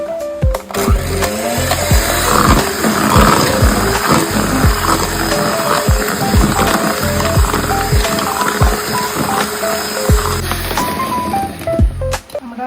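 An electric hand mixer beats cream with about three tablespoons of sugar, a loud continuous whirring drone with rhythmic scraping pulses as the beaters work the bowl, close up.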